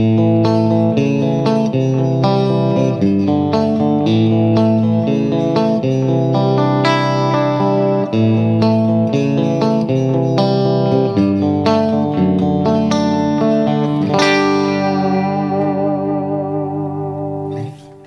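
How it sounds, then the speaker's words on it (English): An electric guitar played through a Fryette Power Station amp attenuator and an effects unit adding reverb and delay rings out in sustained chords and melodic lines, loud and close, with echoing tails and a final fading note. "your bone dry amplifier, once you plug your favorite effects unit in, can have reverb and or delay if you want"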